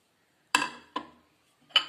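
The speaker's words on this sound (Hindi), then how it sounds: "पतीले में सबसे पहले हम गोश्त डाल देंगे।" Three wet, clattering thumps land in a metal pot, the first and last loudest, with short quiet gaps between them.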